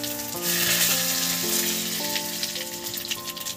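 Five-spice and two dried chillies sizzle in hot mustard oil, a steady close frying hiss under faint tonal background music, with no talking.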